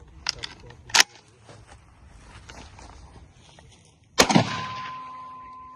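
Turkish pump-action shotgun fired once, a sharp loud blast with a ringing tail, preceded by a few mechanical clicks and clacks of handling; quiet talk is heard in between.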